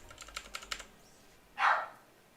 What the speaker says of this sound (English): Sorry about the dog if you guys hear that in the background.